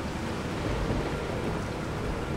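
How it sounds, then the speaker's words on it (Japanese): Steady heavy rainfall with low rumbling thunder in a Resident Evil 4 game scene, a dense continuous wash of sound with no talking. "見えん、もう雨で。"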